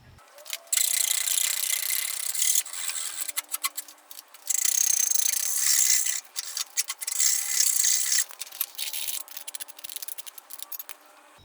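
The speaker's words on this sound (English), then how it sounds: "I'll clean the end of this up nice and pretty with a file" A hand file rasping the end of a steel front frame bar on a Nissan D21 minitruck, with bursts of rapid rhythmic scraping strokes broken by short pauses, close and fairly loud.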